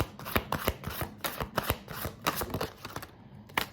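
Tarot cards being shuffled by hand, a steady run of soft papery riffles and taps repeating close up for several seconds, with no talking.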